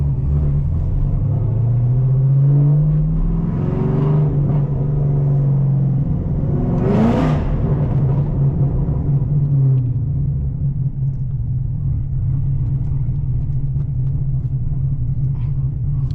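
Chevrolet Camaro ZL1 with a 6-speed manual driven at night through an empty ghost town, its engine a steady low rumble with a rising rev sweep and a brief whooshing pass partway through, continuous from inside the car.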